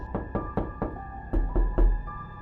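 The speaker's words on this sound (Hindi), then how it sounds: "शीला गांव वालों के दरवाजे को खटखटाती है" Sharp knocks on a village door come in an even run of about four raps, then a pause and three heavier thuds, close and loud with no voices.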